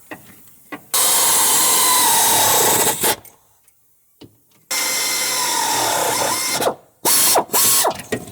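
A hand ratchet tightening air bag fittings on a truck, with two long, loud bursts of rapid ratcheting clicks, then shorter quick strokes near the end, close up with no talking.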